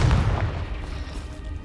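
A Confringo blasting spell in the Hogwarts Legacy video game, one loud deep booming explosion at the start that rumbles and fades over a second or two.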